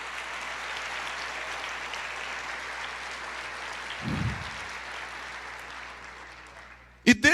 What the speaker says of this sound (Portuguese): Aplauda mais